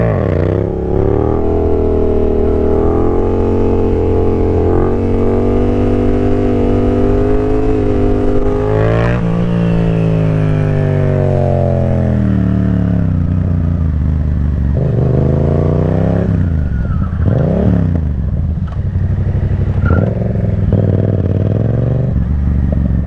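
Yamaha FZ-07 motorcycle engine loud and close throughout, rising in pitch through the gears with clear drops at each shift, then easing off and revving unevenly near the end.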